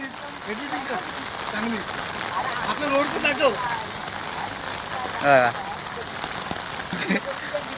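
Steady rain patters on a surface outdoors on a wet evening, a constant wash of drops under people talking nearby.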